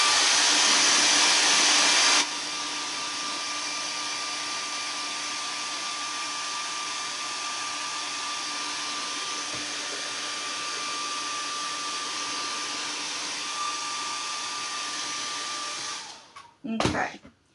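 A hair dryer blows hot air onto paste on a patriotic craft wreath, starting on a louder high setting, then running steadily at a lower roar for about fourteen seconds before switching off with a clunk.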